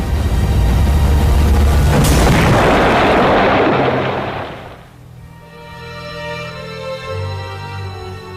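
Bombs from a German Zeppelin airship raid on London, a loud, deep rumbling blast that swells and roars for several seconds before decaying into a lower, fading rumble with a lingering tonal hum.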